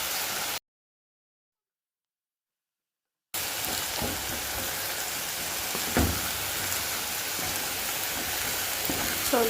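Pork and tomatoes cooking Kenyan style in a pan give off a steady, close sizzle with occasional stirring knocks, broken by a few seconds of complete silence early on.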